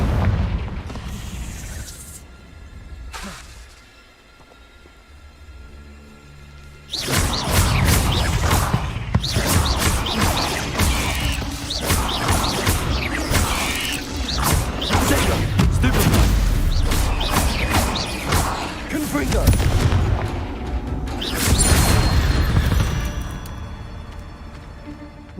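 Confringo blasting spells in Hogwarts Legacy, a quieter stretch of rumbling before a sustained barrage of loud booming explosions and crackling bursts that keeps erupting for many seconds.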